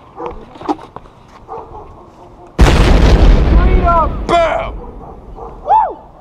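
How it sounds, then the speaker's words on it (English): A loud outdoor firework explosion during a July celebration: a sudden sharp bang that swells into a roaring burst lasting over a second before fading, with people whooping and talking before and after it. "Explosion."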